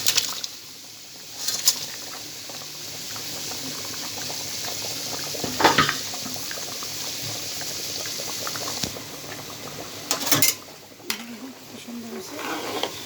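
Fish curry with potatoes and snakehead fish bubbling in a pot, a steady close hiss of boiling broken by a few louder pops and splutters, with a voice speaking briefly over it.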